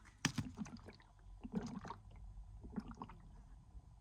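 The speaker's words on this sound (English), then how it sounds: "I set up this biogas system and now it's running very well. In fact, you could hear it bubbling." Bubbling from a homemade biogas digester in a summer food-forest garden in Greece, heard as faint irregular wet gurgles and pops in a few clustered bursts over a quiet background.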